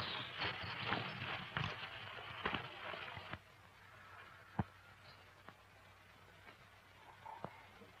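Horses' hooves clip-clop on the ground in a classic Western scene, a cluster of fairly close hoofbeats at first that thins out into a few sparse, fainter knocks with no talking.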